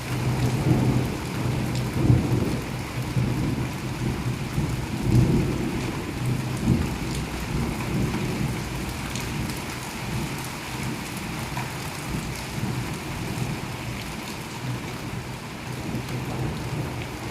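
Heavy rain falls during a thunderstorm in Fazilka, Punjab, a steady, full roar of downpour with low rolling thunder rumbles swelling near the start and then easing, without any voices.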